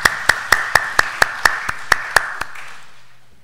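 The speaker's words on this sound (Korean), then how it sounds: "박수 한번 하십시다." A church congregation at a Friday late-night prayer meeting claps in unison, about ten sharp, evenly spaced claps that stop abruptly and leave a brief fading room tail.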